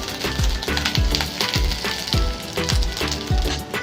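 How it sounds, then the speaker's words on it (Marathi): Onion sautéing in hot oil in a pan, a loud dense crackling sizzle close by, with a regular pulse of low thumps and scrapes about every half second as it is stirred, no speech. "तिथे कांदा चांगला परतून घ्यायचा आहे"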